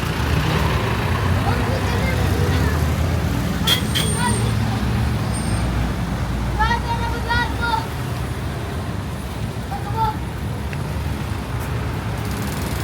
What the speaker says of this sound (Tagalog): Traffic kaayo ang guys. Very traffic.